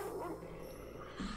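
A starving dog in a Naruto anime episode whimpers and yips softly in one brief, faint burst.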